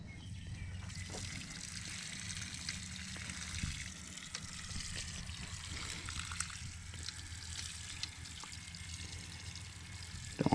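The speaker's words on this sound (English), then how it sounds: "I'm gonna water these in just a little bit." Water pouring and trickling onto newly planted tomato plants in a greenhouse bed rich in composted manure, a steady close splashing stream with a low rumbling undertone throughout.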